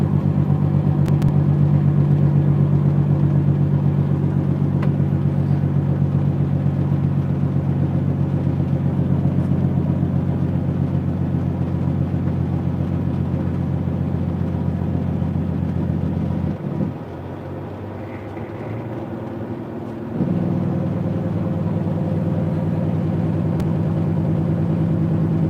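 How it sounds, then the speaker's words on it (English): Heavy trucks rolling past on a highway near a weigh station scale house, a steady loud engine and tire rumble that drops briefly before the roar returns, with no talk. "Some of these other trucks are gonna go by because they got pre-pass."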